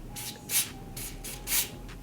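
An aerosol lace bond spray for a lace frontal wig hisses in a series of short bursts, about six in a row, two of them louder, close to the listener with no voices.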